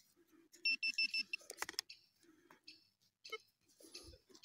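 A metal detector sweeping over ground in the woods gives a rapid series of close, clear electronic beeps, then shorter chirps and scattered rustling and handling noises.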